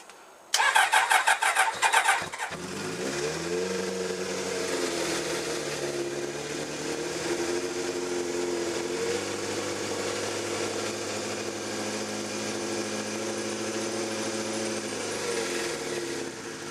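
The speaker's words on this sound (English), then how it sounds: "so the bike started up, so it proves it was something to do with the pump" A Kawasaki ZXR motorcycle with a faulty fuel pump cranks briefly with a sharp starter whir, then its engine catches and settles into a steady, revving idle that runs on alone for many seconds.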